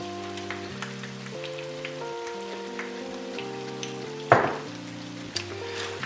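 Chorizo taco filling with mezcal and honey sizzles steadily in a pan while being stirred, with a sharp utensil clatter partway through and a tonal musical backing underneath.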